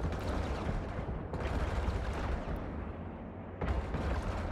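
Ship cannons in EVE Online fire in heavy booming volleys, two sharp bursts standing out above a continuous low, rumbling space-combat drone.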